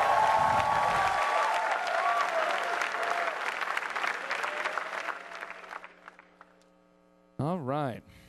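A large crowd at a BlizzCon StarCraft match cheers and applauds loudly, then fades out to near silence, followed by a brief sweeping electronic tone.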